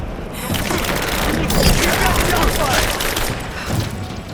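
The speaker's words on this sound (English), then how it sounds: "Shots fired!" Dense, continuous gunfire from a firefight in the video game Rise of the Tomb Raider, with rapid overlapping shots and booms and voices shouting through the barrage.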